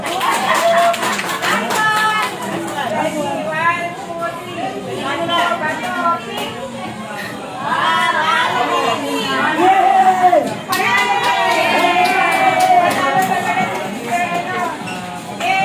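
Senior citizens clap together at a Jollibee gathering, a dense patter of hands rising and falling over roughly fifteen seconds, mixed with crowd chatter and children's voices close by.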